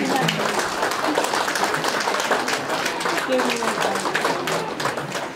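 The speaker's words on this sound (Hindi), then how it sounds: "ताली बजाइदिनु होला।" Crowd applause at a DXN company gathering in Khandbari, a steady, dense clapping texture that fills the clip, with voices and faint music woven through it.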